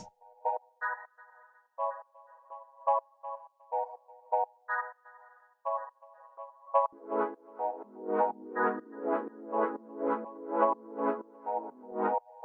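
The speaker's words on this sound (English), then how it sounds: "The next thing that we have here is this little stab" Short synthesized lo-fi house chord stabs repeat in a bouncy pattern, soft at first, then joined by fuller, denser stabs that pulse quickly until the end.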